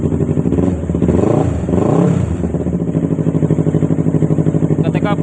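A Yamaha R25 motorcycle with a burnt regulator socket idles close by, its engine giving a steady, rapid throbbing pulse while someone talks over the first part.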